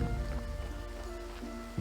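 Steady rain falls in the farming video game Graveyard Keeper, a continuous wash of patter under soft background music tones, with no voices.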